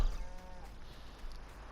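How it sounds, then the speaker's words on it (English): Sheep bleat at the livestock purchase point of a farm map in the video game Farming Simulator 19; a short bleat comes near the start over a steady low farmyard ambience. "Ah, this is where you buy your sheep."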